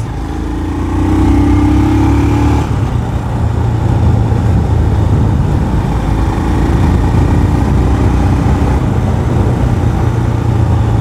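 A Royal Enfield Scram 411 motorcycle rides close by, its single-cylinder engine giving a steady, loud mid-pitched drone with a shift in tone early on and constant road noise throughout.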